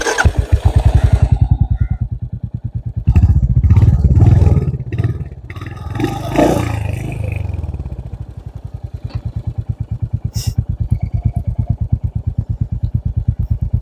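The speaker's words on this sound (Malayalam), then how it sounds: "അപ്പോൾ ഇത്ര എന്തായാലും എത്തിയില്ലേ, നമുക്ക് ഇതിന്റെ എക്സോസ്റ്റ് നോട്ട് കൂടെ ഒന്ന് കേട്ട് നോക്കാം" A Royal Enfield motorcycle idles and revs nearby, its exhaust giving a loud, evenly pulsing thump that swells through a couple of revs before settling back into a steady idle beat.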